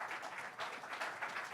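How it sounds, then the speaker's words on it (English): Faint, steady applause from a real estate audience, a soft continuous patter of many hands clapping at a distance, with no talk over it. "just give yourselves a round of applause for showing up today"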